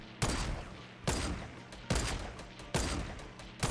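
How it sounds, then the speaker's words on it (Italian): Gunfire hammering a fort in Fortnite, with four sharp, loud bursts spaced about a second apart, each decaying into a dense rattle. No talking. "Continua a sparare al fortino"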